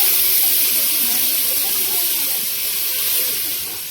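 Water is poured into a hot pan of parwal dorma, setting off a loud, steady hiss of steam and sizzle that slowly tapers toward the end.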